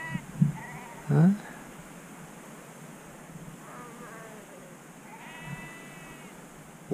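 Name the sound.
sheep bleating in the morning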